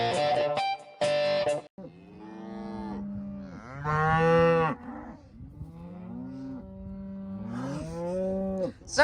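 Cattle on a farm moo loudly and repeatedly, long drawn-out calls overlapping one another, with a few short bursts of noise at the start.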